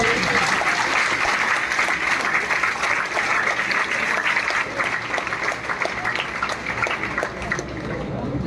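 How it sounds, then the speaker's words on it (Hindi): Students in a classroom clap together for a student, a continuous, fairly loud round of applause lasting over eight seconds that thins slightly toward the end. "हमारे राजेश अटेंडेंट के लिए जरूर तालियां बजा दो"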